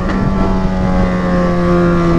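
An XJ6 motorcycle roars past close by, its engine a loud, steady drone with strong low tones holding for the whole stretch, with no talking.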